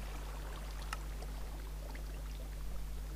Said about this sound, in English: I know that water is loud.